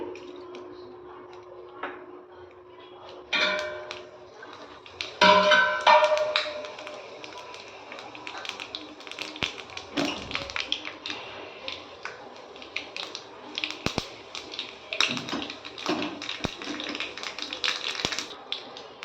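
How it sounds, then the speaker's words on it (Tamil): Mustard seeds spluttering in hot oil give quiet, scattered crackles and pops that continue steadily, with faint kitchen clatter around them. "கடுகு பொரிஞ்சிருச்சுங்க."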